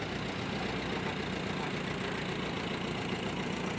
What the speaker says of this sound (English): Here we have a beautifully restored, beautifully painted up Minneapolis Moline U. UTU to be specific.